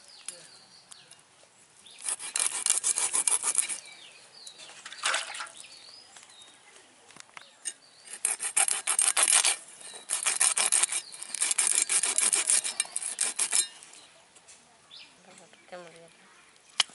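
A catla fish is scraped and cleaned by hand, giving harsh close rasping strokes in several long bursts separated by quieter pauses.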